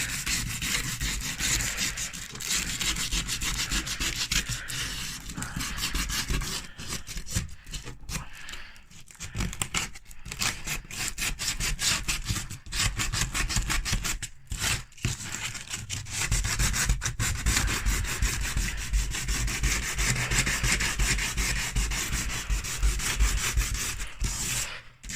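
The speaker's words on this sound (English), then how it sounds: "down the side, roll up your bit of sandpaper" Rolled-up sandpaper rubbing along a wooden shutter, continuous close scratchy strokes with brief pauses and a few paper crinkles.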